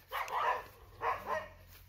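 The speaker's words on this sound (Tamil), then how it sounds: "நாய் எல்லாமே குலைக்குது" Village dogs in Sembanur bark twice, fairly close and loud, with a short gap between the barks and no talking.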